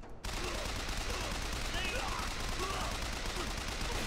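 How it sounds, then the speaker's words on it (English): Rapid, continuous machine-gun fire in the Bioshock Infinite video game crackles densely at moderate level for several seconds after a brief silent start. "I'll just kill him with the machine gun at first, and then I'll switch."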